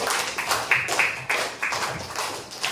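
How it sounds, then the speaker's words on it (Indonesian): An elementary school class of fifth graders applauding in their classroom, a handful of uneven, close claps and taps in irregular bursts rather than a full ovation. "Sekali lagi tepuk tangan buat kelas tadi"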